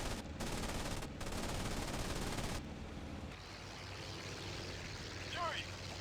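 A6M Zero machine guns firing in IL-2 Sturmovik 1946, a dense, loud rattling burst for about two and a half seconds, then engine drone under someone talking.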